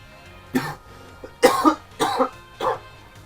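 Four short coughs from a character in the video game Pokémon Scarlet, spaced irregularly with quiet gaps between them, close and fairly loud with no talk over them.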